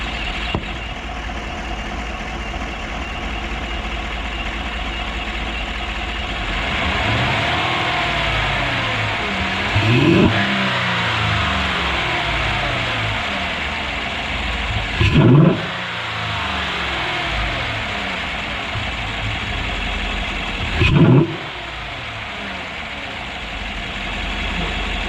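A truck engine fitted with a cold air intake idles with a low rumble, then revs sharply three times, each burst rising and falling with an intake whoosh.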